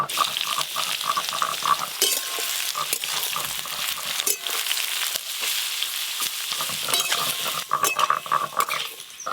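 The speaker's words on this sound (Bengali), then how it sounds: "এবার দেবো পেঁয়াজ কুচি।" Chopped onion frying in hot oil with whole spices like cardamom, cinnamon, cloves, bay leaf and cumin, a steady close sizzle broken by repeated clinks and scrapes of a spoon stirring the pan.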